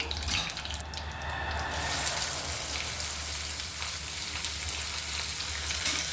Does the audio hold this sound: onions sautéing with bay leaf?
yes